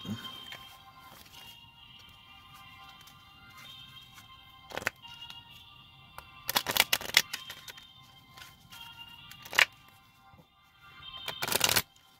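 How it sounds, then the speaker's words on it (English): Several bursts of playing cards being riffled and shuffled, crisp and close, separated by quieter handling sounds with no talking. "Shuffle these back in, the 8."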